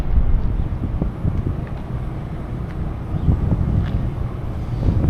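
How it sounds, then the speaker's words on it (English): Steady gusting wind buffets the microphone, a low rumbling roar with no voices. "It's always windy here, it seems like."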